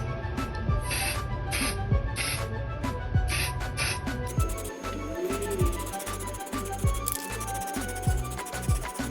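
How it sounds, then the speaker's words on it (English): Varnish coating sprayed onto a decoupage tray, heard as short repeated hissing bursts, followed by denser continuous spraying with intermittent clicks, close and fairly quiet. "Now we are going to give our tray a varnish coating"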